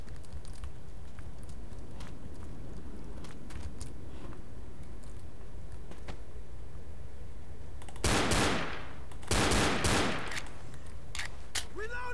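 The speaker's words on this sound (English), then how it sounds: "I can't shoot as fast with only one handgun as I can with two, apparently" Handgun fire in the zombie shooter Left 4 Dead, a few loud sharp shots near the end after a stretch of quieter in-game background noise.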